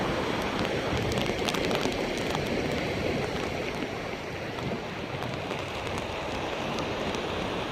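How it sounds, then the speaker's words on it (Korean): Steady rain falls in a dense, even hiss with scattered drop patters and some wind buffeting the microphone, continuous throughout with no voices. "비가 내리고 있습니다"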